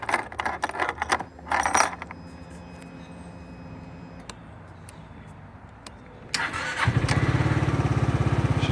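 Some clicks and handling noises, then a 2006 Yamaha Morphous scooter's small engine cranks and catches, settling into a steady, fairly loud idle nearby.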